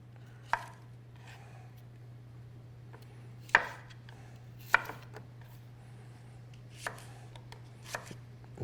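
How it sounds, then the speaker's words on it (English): Radishes are chopped with a knife on a board in a few sharp, separate strikes spaced a second or more apart, close and clear over a low steady electrical hum. "We're going to cut up some radishes."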